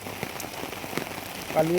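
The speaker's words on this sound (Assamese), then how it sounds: "যোৱাকালিৰ পৰা এনেকৈ বৰষুণ দি আছে, এৰাই নাই।" Steady heavy rain patters on a surface throughout, a dense wash of drops with a brief tonal sound rising near the end.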